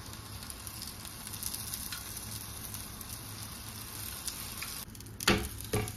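Ragi cake frying in oil poured around it on a pan: a constant soft sizzle, with a couple of louder knocks and spatters near the end.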